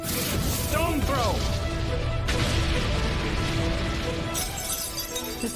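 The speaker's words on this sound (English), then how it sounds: "The silver crosses are shattering." Silver crosses shatter in an anime battle as a loud, dense crash with a brief whooshing sweep. A bright burst of breaking fragments rings out over a thick rumbling effects bed.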